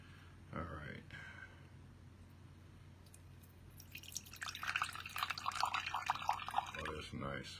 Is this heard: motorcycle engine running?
no